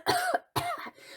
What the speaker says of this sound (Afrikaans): Maar hy het gehoes en geproes soos hy aan die droë poeier verstik het.